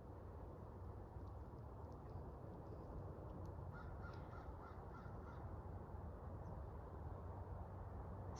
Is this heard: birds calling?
yes